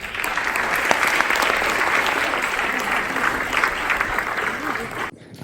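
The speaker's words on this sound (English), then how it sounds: "Let's give him a round of applause." A conference audience gives sustained, dense applause as a speaker is welcomed to the stage, loud and even throughout before cutting off abruptly near the end.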